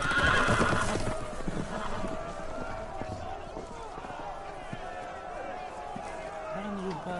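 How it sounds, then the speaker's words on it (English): Horses whinny and hooves clatter amid a busy, noisy scene in a video game, with voices talking over the commotion throughout. "The horses! They're loose!"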